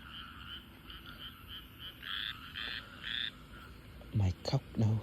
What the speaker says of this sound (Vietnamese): Ếch đó kêu rất là nhiều.